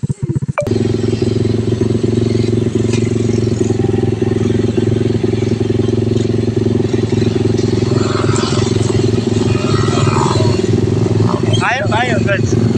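A trail motorcycle engine runs steadily at close range, its loud low rumble holding constant with a slight rev and clatter, as people talk in the background.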